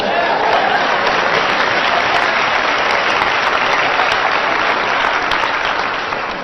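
A live audience claps loudly and continuously, a thick even wash of applause holding steady for about six seconds before easing slightly at the end.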